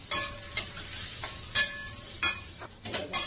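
Stuffed okra hits a pan with a little cumin over low gas, giving a soft, steady sizzle broken by several sharp clinks and scrapes of stirring, with no voices.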